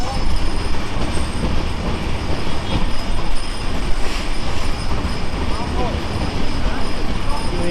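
Madhumati Express rushing past Sreenagar railway station in Munshiganj, heard loud and close from on board as a constant roar of wheels and rattling carriages with a metallic squeal, and someone talking over it.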